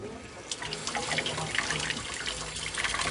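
Tap water runs steadily into a sink as a kitchen spatula is rinsed off during ice cream making, a continuous splashing wash with small spatters, close and fairly loud with no talking.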